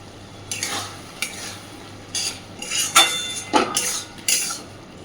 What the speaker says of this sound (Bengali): সর্ষের তেলটা দেওয়ার পরে একটু নাড়াচাড়া করে গ্যাসের ফ্লেমটা